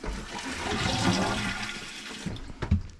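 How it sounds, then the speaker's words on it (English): An RV toilet flushing: a close, gushing rush of water that swells and then tails off into a few gurgles and knocks near the end, with no talking. "we bring in 3 times of water, or 2 times, and flush and make sure it's not leaking through the gasket"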